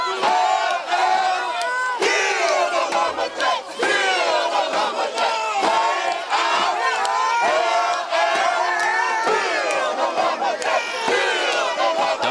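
A packed crowd at a high school football game, Dollarway against Warren, roars and yells continuously, loud and close from within the stands, with many overlapping voices shouting.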